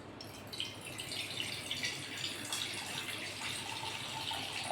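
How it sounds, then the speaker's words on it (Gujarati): Water poured from a glass into a cooking pot while making Maggi noodles in a home kitchen, a soft steady splashing trickle lasting several seconds, fairly faint and without talk. "ગ્લાસમાં પાણી છે એ આપણે તપેલામાં નાખવાનું છે."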